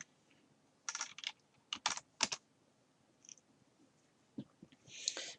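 Someone types on a computer keyboard while working with files in Microsoft Word 2013: several short bursts of crisp key clicks in clusters, close and fairly quiet, with pauses between them and no talking.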